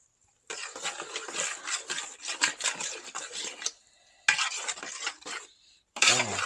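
Seafood gumbo with smoked chicken being stirred in a pot: bursts of scraping, rubbing utensil strokes against the metal come in long runs, close and moderately loud, with brief pauses between passes and no talking.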